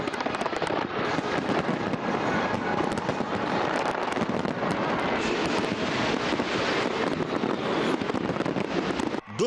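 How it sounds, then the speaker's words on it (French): New Year fireworks over the Thames in London crackle and boom continuously, a dense wash of bursts and rumble heard from a distance with wind noise. "Là aussi, l'événement est marqué par de magnifiques feux d'artifice."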